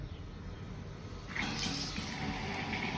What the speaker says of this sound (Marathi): पाणी चालू केलं